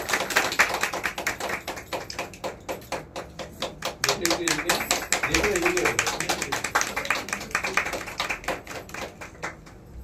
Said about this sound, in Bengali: হাততালি, সকলের পরে যেন হাততালি দেবে।